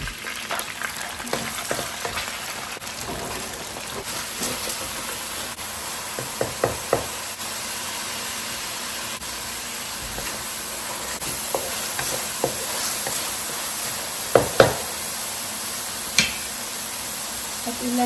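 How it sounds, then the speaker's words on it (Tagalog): Chicken liver sautéing in a pan for adobo sizzles steadily and close, with occasional knocks and scrapes of a utensil stirring against the pan. "Ngayon, igigisa na natin yung ating liver."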